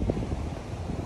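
Wind gusts buffet an outdoor microphone at a city pool site, making a loud low rumbling roar that fills the whole moment without pause.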